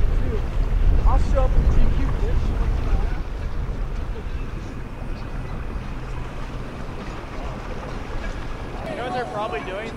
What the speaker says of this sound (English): one of the boats from the previous evening returns.